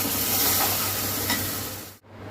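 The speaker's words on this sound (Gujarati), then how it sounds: "બરાબર મિક્સ કરી લઈશું." Chole gravy stirred in a hot pan, a continuous sizzling hiss with soft scraping strokes that fades and then stops sharply, followed by a quieter, lighter sizzle.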